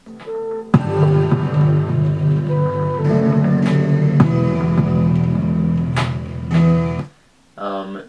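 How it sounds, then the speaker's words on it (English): A bright glockenspiel melody rings out in a produced electronic track, its struck metallic notes sustaining over dense bass and chords, with the music breaking off near the end before a short tail. "The last sound that you hear that I'm going to talk about is the glockenspiel toward the end"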